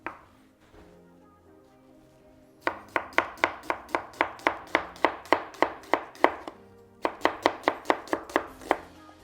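Rapid knife strokes julienne-slicing peeled vegetables on a cutting board for beef stroganoff, a run of sharp, evenly spaced chops close up, a short pause, then a second quick burst, with a faint musical bed underneath.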